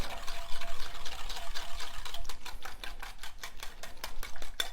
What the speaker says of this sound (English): Now I'm adding 1 cup of heavy cream. Just gonna stir this up.